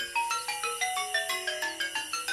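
A melodic telephone ringtone plays as a quick sequence of bright, stepping electronic tones, repeating rhythmically and alone, set within a children's nursery rhyme song.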